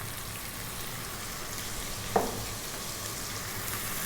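Onion sizzles and fries steadily in a hot pan while cooking spicy prawn rice, a continuous close crackle with a brief clatter midway.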